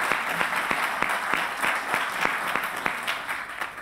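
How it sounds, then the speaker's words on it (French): An audience claps steadily and fairly evenly for a few seconds, the applause close and sustained with no voices over it. "Vous pouvez les applaudir."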